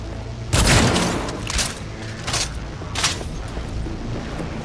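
Gunfire in the video game Cyberpunk 2077, a loud opening burst followed by several sharper shots at irregular intervals over a continuous background rumble.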